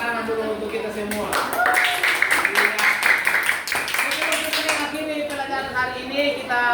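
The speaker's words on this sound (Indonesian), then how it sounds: "Oke, tepuk tangan dulu untuk kita semua." Children clapping together in a classroom during a Christian religious education lesson, a burst of rhythmic claps over a few seconds mixed with voices talking.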